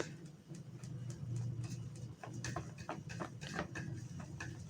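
Baking soda is stirred into a creamy homemade soap mixture meant for cleaning burnt aluminum or stainless pots, making a steady run of close, crisp clicking and scraping ticks with no talking.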